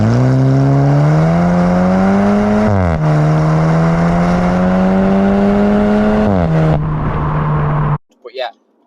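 From inside a 2015 Volkswagen Polo GTI 1.8 TSI in sport mode, the engine pulls hard under acceleration with a loud rising drone, broken by two quick gear changes, before cutting out.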